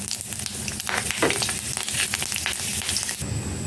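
Dried red chillies, bay leaf and panch phoron spices crackle and sizzle in hot oil for a Bengali bhog khichuri, a steady close frying hiss with scattered pops, heard alone without talk.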